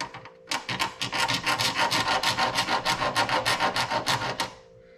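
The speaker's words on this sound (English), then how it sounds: "I'm going to use a file here." A metal file rasps against brass taken from an old fuse box, about fifteen quick, even back-and-forth strokes close up, scratchy and steady, with a faint hum beneath and no talk.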